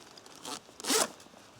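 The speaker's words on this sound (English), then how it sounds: "Now that we've unzipped both sides" Side zippers on a British military tactical radio rucksack being pulled open in two short, close zipping strokes, the second louder and longer, with no talking.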